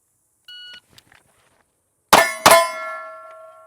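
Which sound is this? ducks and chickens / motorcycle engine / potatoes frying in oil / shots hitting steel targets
shots hitting steel targets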